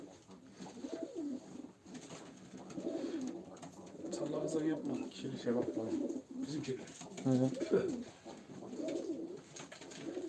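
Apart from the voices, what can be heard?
pigeons cooing at a live pigeon auction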